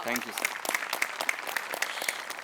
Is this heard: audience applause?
yes